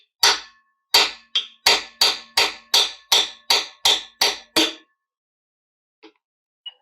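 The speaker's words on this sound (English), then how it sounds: "all I'm using is this old chisel and a hammer to punch them out" An old chisel struck with a hammer punches Welsh plugs out of a Holden 304 V8 engine block during a rebuild, giving about ten sharp metallic blows in a steady rhythm, close and loud, followed by a couple of faint taps.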